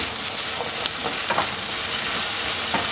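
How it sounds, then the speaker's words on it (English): Vegetables sautéing in a pan for smothered chicken pot pies: a loud, dense, steady sizzle up close, broken by occasional scrapes of stirring. "So you wanna sort of saute out some of your vegetables, just like this."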